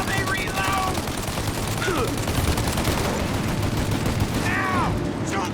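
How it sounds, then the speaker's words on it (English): Gunfire in Mafia: Definitive Edition, bursts of shots crackling over a dense rumbling battle backdrop, moderately loud, with brief voice-like calls in the mix. "Shoot out their gun when there's a break in the fire!"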